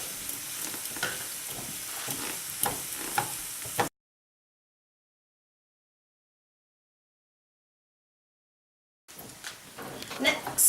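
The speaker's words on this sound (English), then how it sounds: "we're going to let that saute for about 15 minutes or until it's a little bit browned and tender" Vegetables with a bay leaf sauté in a pan with a steady sizzle, broken by a long silent gap, with a voice talking over parts of it.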